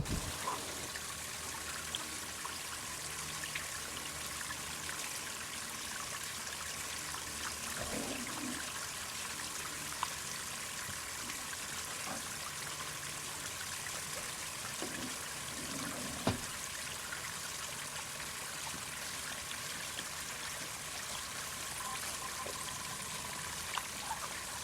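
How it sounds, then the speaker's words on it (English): Water trickling steadily over polished tumbled rocks in a small stream-like flow, a constant soft burble with a few faint clicks, no voices. "Those are all polished rocks that are sitting there that the water runs over."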